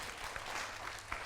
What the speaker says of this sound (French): on peut applaudir pour lui.